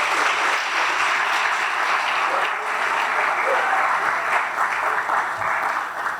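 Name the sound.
audience applause for the food vendors at a gala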